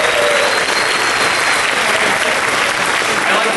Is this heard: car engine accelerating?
no